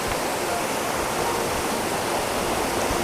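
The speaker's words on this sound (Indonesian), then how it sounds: "Wah, kanan kiri sungai." River water rushes steadily past a riverside campsite at Bedengan campground in Malang, a continuous broadband roar filling the whole clip with no breaks, close and fairly loud.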